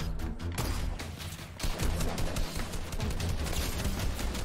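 Gunfire in the video game Fortnite, a dense, rapid barrage of shots with heavy low-end thumps that surges after a short pause and keeps pounding loud and close, with no voices over it.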